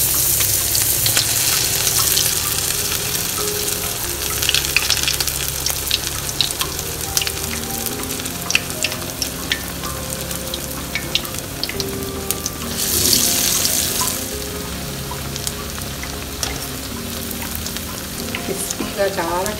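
Black-eyed bean vadas sizzle steadily in hot oil, a continuous crackling fry with bursts of brighter spattering, close and fairly loud throughout.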